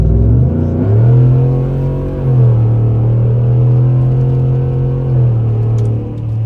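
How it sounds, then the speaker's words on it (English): A 2023 Ford F-150 accelerating hard as the tires break traction and traction control kicks in: a loud, close engine roar climbing in pitch through steady revving surges, heard alone. "Broke the tires as traction control was kicking in."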